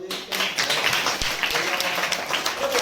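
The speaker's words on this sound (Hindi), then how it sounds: "शाबाश, ताली बजा दो।" Children clapping in an abacus lesson after a correct answer, a close burst of irregular hand claps that runs throughout with some voices mixed in.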